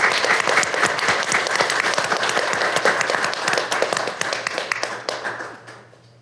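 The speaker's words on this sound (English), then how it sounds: "Let's give these folks, all of them, a big round of applause." An audience at a city council meeting in Greer, South Carolina, claps in a steady, loud round of applause that fades toward the end, with no speech over it.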